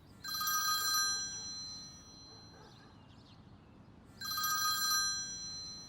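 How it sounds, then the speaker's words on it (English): A telephone bell rings in two clear bursts separated by a pause, loud and close against a quiet, stormy night backdrop, with no talking. "the phone rang"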